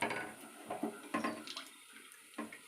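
Water sloshes and splashes in short bursts as something is rinsed by hand in a vessel, close and fairly quiet.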